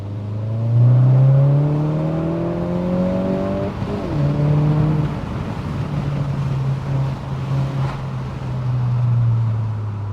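A VW Golf GTI Mk7 hot hatch accelerates hard from inside the cabin, its engine note rising steadily through the gears with a brief dip at each shift, over road and wind noise.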